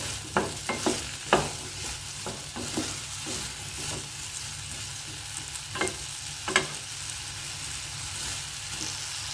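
Gojju ingredients fry in a thick-bottomed pan while a ladle stirs them, giving a steady close sizzle broken by sharp scraping and clinking strokes, busiest at the start and again near the end.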